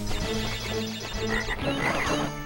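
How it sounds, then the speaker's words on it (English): Cartoonish frog croaks from Crash Bandicoot 3: Warped, a few short croaks rising over busy, continuous game music and effects. "Stupid frog."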